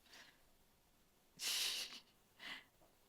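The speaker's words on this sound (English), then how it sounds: "having a wee sniff" A puppy sniffs at a ball of wool yarn close up, with a few quick nasal snuffles and snorts in short bursts separated by quiet pauses.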